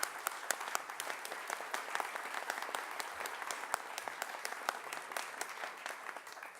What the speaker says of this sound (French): Je vous remercie de les applaudir.